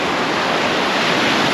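Ocean surf rolls steadily onto Vero Beach, a loud continuous wash of breaking waves with some wind buffeting the microphone and no voices.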